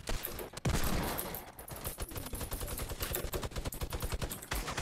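Rapid bursts of video game gunfire in a shooter, loud and close, rattling in fast automatic volleys with a heavy blast near the start and no talk.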